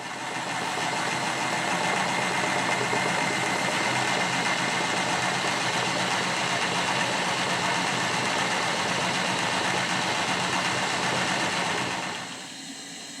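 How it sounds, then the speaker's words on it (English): Model Sirius steam engines running on a kitchen table, a loud, steady broadband whir and hiss with mechanical vibration that holds constant for about twelve seconds before easing off, with no talking. "From this point, I'm going to stop speaking when the engines are running."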